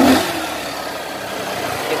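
A car engine running steadily after a stuck engine valve was fixed, a continuous mid-pitched hum with no misfires or stalling, loud and close with a brief rev at the start.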